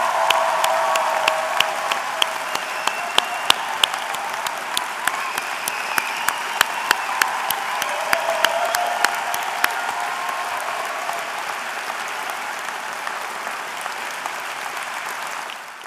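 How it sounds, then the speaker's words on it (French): An audience at a medical graduation ceremony applauds the new doctors warmly, with sustained, dense clapping and sharp individual claps standing out, continuing evenly to the end. "Vous pouvez maintenant tous les applaudir très chaleureusement."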